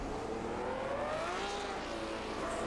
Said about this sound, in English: let you hear the amazing sound of the flat 12 Alfa Romeo engine